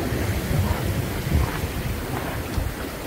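A steady wind rushes over a sailboat at sea, a broad, moderately loud whoosh with low gusty rumbles and faint water wash beneath it, and no voices.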